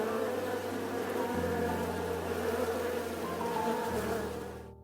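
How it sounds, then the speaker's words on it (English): Himalayan giant honeybees, Apis laboriosa, the world's largest honeybee, drone steadily at hives clinging to sheer cliffs, a loud dense buzzing swarm that holds for several seconds before cutting off, with no voices. "are home to Apis laboriosa, the world's largest honeybee"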